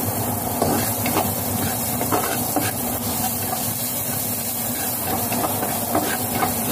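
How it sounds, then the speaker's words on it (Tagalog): Minced garlic sautéing in a hot pan, a steady broad sizzling hiss that holds evenly throughout with no talk over it. "At ngayon po guys ay magisa po tayo ng bawang."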